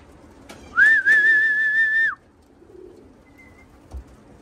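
A single clear whistled bird call, a long steady note that rises and holds for about a second before dropping off, then quiet outdoor background.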